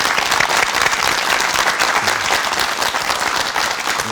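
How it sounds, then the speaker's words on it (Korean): A studio audience on a Korean morning talk show welcomes a lecturer with loud, sustained applause, thick, even clapping that fills the room without pause. "박수 청해 주시기 바랍니다"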